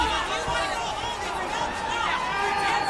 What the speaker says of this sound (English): You can hear the crowd here in the San Diego Sports Arena shouting for both fighters.